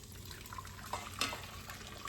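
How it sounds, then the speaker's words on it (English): Faint turkey broth pouring through a strainer and trickling, a soft continuous splash with a few small drips, quiet and close. "I just take this and pour it over"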